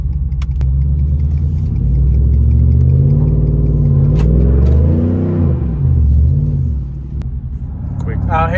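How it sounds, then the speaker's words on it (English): A 2007 Toyota Yaris with new headers and intake manifold, traction control off, pulls hard through a roll from 60, its mid-pitched engine droning loud and steady as revs climb and settle, with faint voices near the end. "doing a quick 60 roll before and after the headers and intake manifold"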